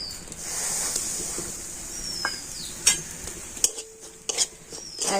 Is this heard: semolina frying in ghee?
yes